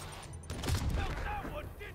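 Rocket launcher fire in the Spider-Man PS4 video game comes as a burst of booming, crackling blasts with rumbling low end. A voice talks over the game noise throughout.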